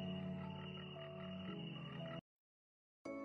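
A frog in an animated fairy tale croaks loudly and up close for about two seconds, falls silent, then starts croaking again briefly at the end.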